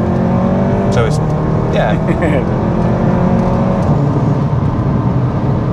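A Stage 3 VW Golf R Estate with a 4-inch downpipe accelerates, its engine droning steadily and fairly loudly throughout while people talk over it inside the car.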